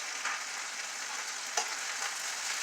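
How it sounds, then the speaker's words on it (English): Steady, close sizzling and crackling of chicken frying in a pan for orange chicken, a constant hiss with a small pop partway through. "I know you hear the chicken sizzling"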